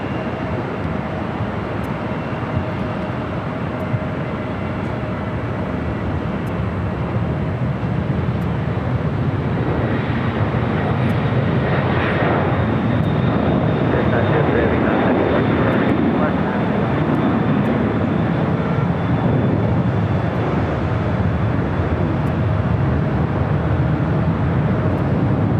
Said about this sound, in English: That's UPS Flight 903 heading back to Louisville, 767-300ER, rolling down to 25 left there on the south side.